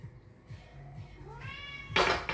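Cat meowing nearby in a kitchen, a rising, tonal meow followed by a louder, brighter cry, with a low repeating background hum underneath.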